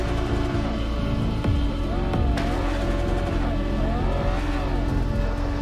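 Car driving in the Cyberpunk 2077 video game, a continuous engine drone with shifting revs and pitch sweeps as it accelerates and slows, heard up close and alone without talk.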